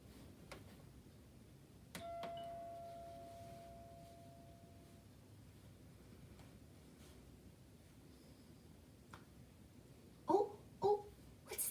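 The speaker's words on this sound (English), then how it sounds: "I think we better ring the doorbell." A two-tone electronic doorbell chime rings once, then rings again a few seconds later against a quiet, faintly noisy room.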